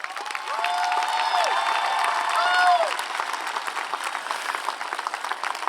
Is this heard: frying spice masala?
no